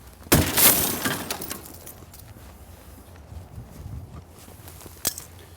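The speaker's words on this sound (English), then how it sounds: "Breaking the next glass" Glass of a car overturned on its roof shattering during a vehicle extrication drill, one sharp loud crash followed by tinkling fragments, then a second smaller crack near the end.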